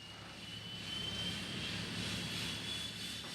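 A small sightseeing airplane at Page Airport drones steadily with its engine, a faint continuous hum that swells slightly midway and holds without any talk.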